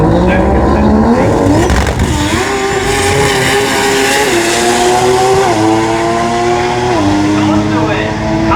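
Race car at full throttle at WillowBank Raceway during a drag racing finals day, engine roaring loud and close with rising pitch as it accelerates through gear changes, with a commentator's voice over it.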